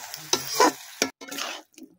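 A fish curry with fried puti fish, fried prawns and potatoes is stirred and sautéed in a pan, giving short, uneven bursts of scraping and sizzling separated by brief pauses.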